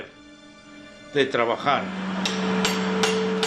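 Hammer blows striking a piece of red-hot iron at a forge, several sharp ringing metallic hits in quick succession, followed by a sustained ringing tone with a few further strikes, close and loud.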